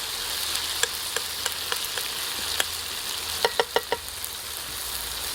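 Hot oil sizzling in a pan as flavour is infused for a celtuce salad, a steady close frying hiss with scattered sharp pops and crackles.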